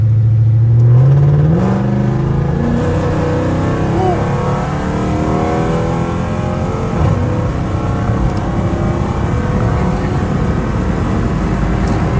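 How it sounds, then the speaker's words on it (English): A Dodge Charger SRT engine pulling hard while merging onto a highway at night, a loud, close roar whose pitch climbs quickly then settles into a sustained heavy drone with road rumble underneath. "I got y'all a hard pull though, like to merge onto the highway though"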